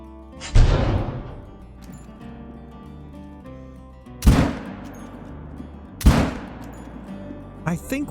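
Rifle shots in the hunting game Call of the Wild: three sharp, loud single reports a few seconds apart, each followed by a long ringing decay over a low background.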